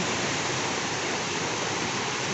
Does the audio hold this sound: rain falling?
yes